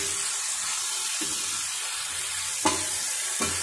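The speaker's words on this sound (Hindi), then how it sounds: "तो इन सबको अच्छे से जो है मिक्स कर लेंगे" Spices and garlic paste being stirred into frying cauliflower in a pan, a steady soft sizzle with a few sharp utensil scrapes and knocks toward the end.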